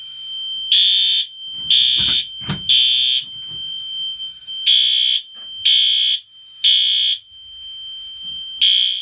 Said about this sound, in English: without further ado, let's hear this alarm finally.